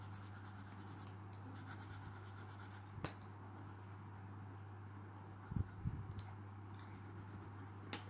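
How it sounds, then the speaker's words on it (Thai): Colored pencil shading a drawing of a long coat, a quiet steady rubbing and scratching on paper with a constant low hum underneath and a few small taps. "วันนี้เรามาใช้สีไม้ระบายกัน"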